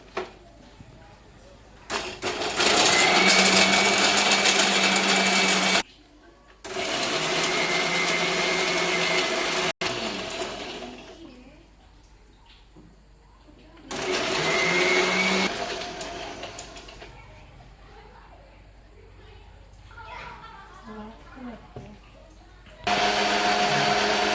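A mixer grinder grinding coconut and garlic, a loud motor whine in several bursts separated by short pauses, with faint talk in the gaps.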